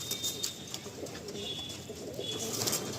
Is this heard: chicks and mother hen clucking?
no